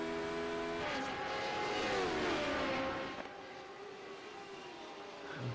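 A Radical SR8's 2.6 litre V8 of 380 horsepower accelerates at Silverstone in a sim racing game. The engine note is a steady, loud whining drone that sweeps through a gear change and settles into a sustained high-pitched rasp, with no talk over it.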